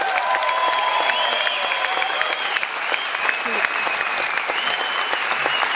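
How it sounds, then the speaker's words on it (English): Steady, full audience applause at a Vemma Believe 2012 event in Malmö, continuous clapping throughout with a voice or music-like tones riding faintly above it. "So a special round of applause"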